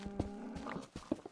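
Short, quiet video-game farm animal calls, a couple of brief lowing cow-like tones with soft clip-clop taps, heard alone.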